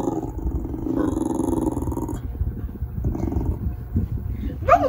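A small dog whines and whimpers near a bed, wanting to be lifted up onto it, with high thin cries that rise at the end under a steady room background and nearby voices.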